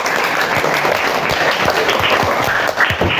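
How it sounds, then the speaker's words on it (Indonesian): Dense, steady applause from a grade 8 class of students in a classroom, loud and continuous throughout, with a few faint voices mixed in. "tepuk tangan lagi untuk kelas 8"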